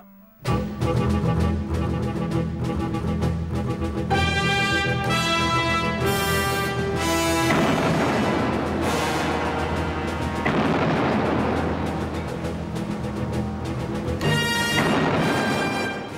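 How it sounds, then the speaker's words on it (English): Naval artillery from battleships firing in an archival sea battle, a rapid succession of loud heavy booms and blasts rolling into one another with sustained rumbling between salvos. "They immediately opened fire."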